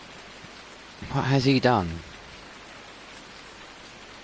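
Steady rain hisses throughout in Farming Simulator 19, a soft even wash of noise; midway someone briefly speaks over it.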